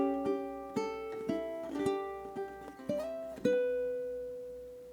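Measure three of a song on ukulele, a short phrase of gently plucked chords and melody notes, soft and close, closing on a sustained ringing chord.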